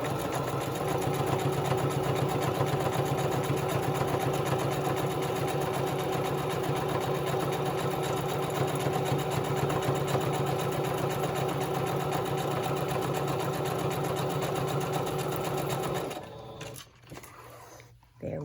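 A sewing machine runs steadily as it stitches a Christmas craft, a continuous mechanical whir that holds for about sixteen seconds before stopping abruptly, followed by quiet handling noise.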